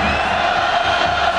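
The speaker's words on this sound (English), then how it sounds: "the crowd getting loud" Football stadium crowd at a 2001 Florida State–Maryland college game swelling into a loud, sustained roar of cheering and yelling, steady and dense throughout.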